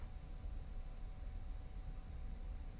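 A Tu-22 bomber carrying a large missile under its belly taxis along a runway, a steady low engine rumble and broadband roar holding even and fairly distant throughout.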